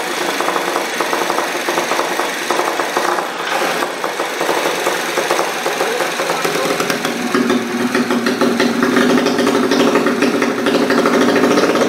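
A Honda Karisma motorcycle engine idles close by with a steady, rattly mechanical chatter that grows a bit rougher and louder partway through.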